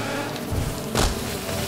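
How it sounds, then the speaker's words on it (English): A small swarm of bees in Hollow Knight gives a soft, steady insect buzz that rises briefly, running alone with no talk. "these group of small bees at the very top here"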